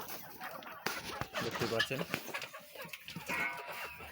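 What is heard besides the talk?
chickens clucking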